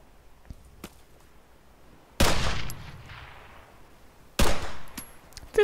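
Two loud, sharp gunshots in the video game ARMA 3 Alpha ring out a couple of seconds apart, each trailing off in a long echo, with fainter clicks and pops between them.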